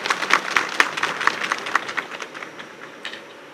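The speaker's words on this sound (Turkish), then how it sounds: "sizlerden de bir alkış istiyorum Sayın eski başkanımıza" Scattered clapping from a ceremony audience at the opening of a drivers' and motorists' tradesmen chamber petrol station in Mut, honoring the former chamber president; brisk, uneven claps that thin out and fade over a few seconds.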